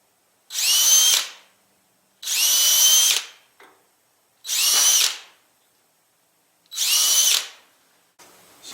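A power drill whirs in four loud, separate bursts of about a second each, driving screws to attach hinges on a wooden chick brooder, with short pauses between bursts.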